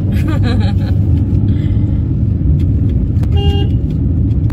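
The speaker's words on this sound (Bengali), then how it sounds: "কেন হর্নটা দিচ্ছি জানো তো?" A car horn toots in Kolkata traffic on a road used for street racing, short honks rising over a loud, steady engine and road rumble, with a few tonal blasts near the end.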